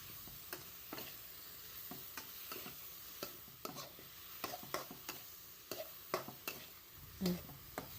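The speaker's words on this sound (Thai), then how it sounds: "ผัดแค่ให้ใบโหระพาสลดนะคะ" Shrimp stir-fried in a wok with young coconut shoots, torn kaffir lime leaves and basil, with faint, quick spatula scrapes and taps over a low sizzle, quiet and without talk.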